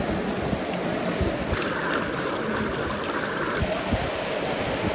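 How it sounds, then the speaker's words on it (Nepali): The Bagmati river at Pashupatinath rushes past in a steady, close, continuous wash of flowing water, with brief faint splashes rising over the constant roar. "खोलाको सुनिरहँदाखेरि पनि क्या आनन्द लाग्ने"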